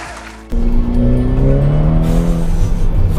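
A Ferrari Portofino retractable-hardtop convertible driven on tight, twisty roads: the engine and exhaust rev up loudly and close by, with quick rising pitch sweeps as it shifts rapidly through the gears.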